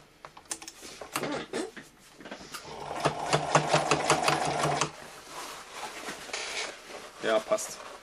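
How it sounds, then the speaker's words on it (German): A home sewing machine stitches through layered webbing strap on a DIY chest rig, running in a fast rattling burst of several seconds between shorter starts, with someone speaking around it. "Ich hoffe mal, die Nähmaschine macht das mit."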